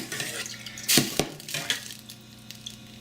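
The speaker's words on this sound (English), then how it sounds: "I'm pouring it in slowly, let it fill in all the cracks between the chunks of venison" Hot artesian water is poured slowly into a glass jar packed with cooked venison chunks. Close, soft splashing and trickling come in uneven bursts, with a couple of sharp glassy clinks and no talking.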